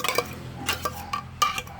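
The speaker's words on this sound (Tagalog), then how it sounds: "Yung tuna, ihalo na natin yan" A spoon scrapes and clinks against a bowl while canned Century Tuna is stirred and mixed, a few short, light taps and scrapes, close and fairly quiet.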